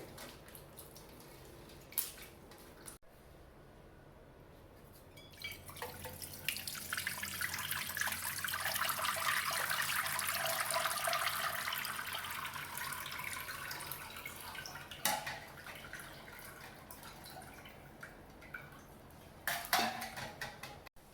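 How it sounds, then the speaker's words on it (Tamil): Water poured into soaked tamarind with salt in a kitchen to dissolve it for a stingray fish curry, a steady splashing and trickling swell lasting several seconds, close and moderately loud, with no talk. "கொஞ்சம் கூட கூட தண்ணி ஊற்றி கரைச்சி எடுத்துக்கலாம்"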